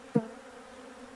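Honeybees from a ten-frame colony found in a roof hum steadily during a hive transfer, with a brief louder burst of buzzing near the start before settling into a faint, continuous drone.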